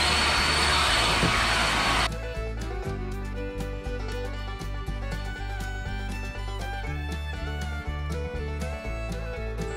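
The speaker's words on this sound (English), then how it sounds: "I'm gonna finish cleanup with our Ego backpack blower." An Ego cordless backpack leaf blower roars loudly for about two seconds, a dense rushing blast, then cuts off as music takes over for the rest.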